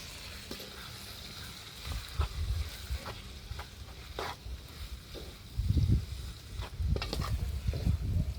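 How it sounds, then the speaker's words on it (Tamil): Chopped country tomatoes sauté in a pan at an outdoor cooking shoot in Jaffna, soft sizzling with irregular stirring scrapes and a few utensil clicks, fairly quiet. "இதை போட்டு அதோடு சேர்த்து வதக்கி கொள்கிறோம்"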